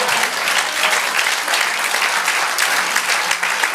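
A church congregation applauds at a sermon, a dense, steady burst of clapping that stays loud from start to finish.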